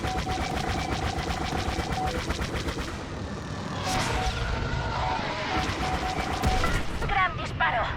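Rapid bursts of starfighter blaster fire from the video game Star Wars Battlefront squadron mode crackle continuously over a dense battle din, with a voice speaking briefly amid the shooting.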